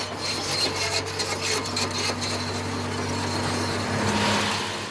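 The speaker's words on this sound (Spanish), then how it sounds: "Utilizaron una excavadora como herramienta de precisión para cortar un nido a la mitad y estudiar su estructura básica" An excavator cuts a concrete-hard termite mound in half, giving a steady grinding, rasping scrape over a low engine drone that holds for the whole stretch with no pauses.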